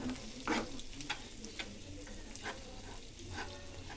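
Homemade pasta with sauce is stirred in a pan over a low, steady sizzle, with repeated soft scrapes and clicks of the spoon at close range and no one speaking.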